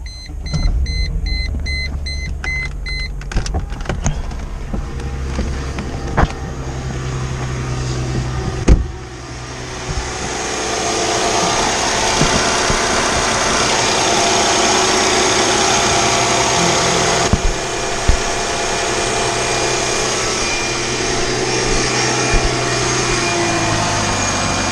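A Mercedes engine fitted with a new oil catch can and replaced hoses cranks, then starts and settles into a steady close idle, with a few clicks and thumps along the way.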